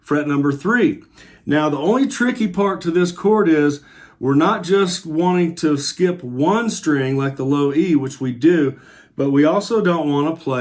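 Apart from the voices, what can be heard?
None of the usual background noises is heard.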